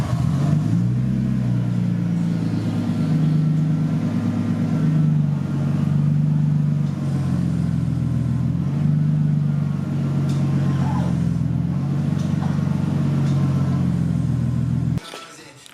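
A Nissan R32 drift car's engine idles steadily and loudly up close, a deep continuous rumble with slight wavering, cutting off near the end.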